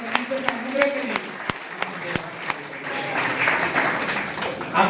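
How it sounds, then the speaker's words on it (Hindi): Church congregation applauding, sharp scattered claps that build into a louder, denser round of clapping toward the end, with a voice speaking over the first part. "जोरदार हाथ ताली बजाकर इस अनुग्रह के लिए, परमेश्वर का अनुग्रह के लिए।"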